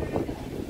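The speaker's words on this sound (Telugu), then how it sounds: "గాలి అనేది విపరీతం" Strong wind buffets the microphone at Hawa Mahal in Jaipur, a red and pink stone palace with latticed windows, giving a steady low rumbling roar throughout the short moment.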